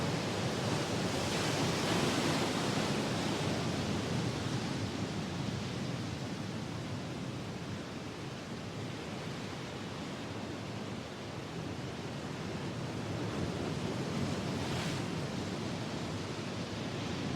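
Churning, restless surf off the Cornish coast, a continuous roar of breaking waves and wash that holds steady and even throughout, with no voices.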